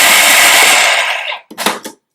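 An electric chopper whirs loudly and steadily as it chops kabab ingredients, winding down after about a second, then two short bursts of pulsing follow.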